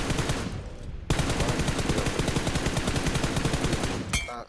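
Rapid automatic gunfire from the mobile battle royale game PUBG Mobile, loud and close, rattling in a dense continuous burst after a brief pause, with a short cut near the end.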